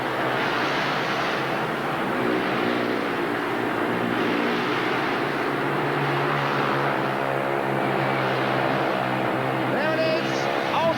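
Speedway motorcycles roar through the final lap of a race in a continuous, loud engine drone that stays steady throughout, with voices faintly underneath.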